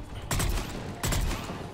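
A mounted gun firing in the video game Mass Effect 3, two loud, heavy bursts about 0.7 seconds apart, each with a sharp onset and a long rumbling tail.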